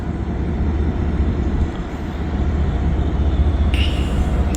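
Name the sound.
CSX train approaching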